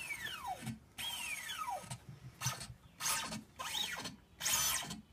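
An IAI ROBO Cylinder electric actuator cycles through programmed positions, producing a series of short whirring motor runs with rising and falling pitch, separated by brief pauses, fairly faint and with no voices.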